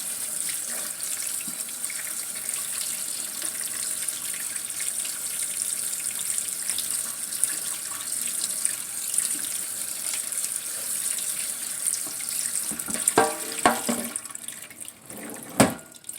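Tap water running steadily over clay pebbles being rinsed in a sink, a continuous close hiss of flowing water with rattling and clattering of pebbles toward the end.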